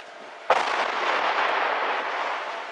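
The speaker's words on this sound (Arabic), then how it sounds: "سقوط قذائف مدفعية وصاروخية على مدينة الرسم" Artillery and rocket shells strike the Syrian city of Ar Rastan in Homs: one sudden loud blast hits, then a broad roaring rumble carries on and fades slowly with no voices.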